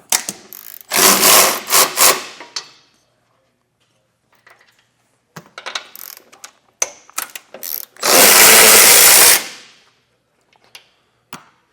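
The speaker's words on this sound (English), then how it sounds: "you'll just have to send your socket through the access hole to get it removed" A socket tool works the bumper bolts loose on a 2025 Volvo XC90, with two loud, close bursts of whirring ratcheting separated by scattered small metallic clicks and taps.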